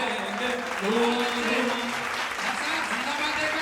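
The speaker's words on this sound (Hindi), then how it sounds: "बढ़िया से तालियां हो जाए अच्छे गीत के लिए" Audience applause at a Hindi poetry recital (kavi sammelan), a steady wash of clapping from a crowd with a voice audible over it, fairly even throughout.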